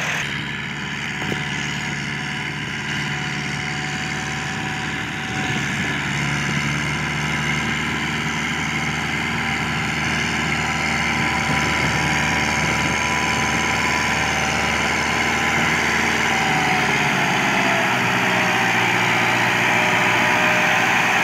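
A Massey 265 tractor hitched to a trolley runs in a field, its engine thrumming loudly and steadily up close with a constant low rumble and vibration. No voices are heard.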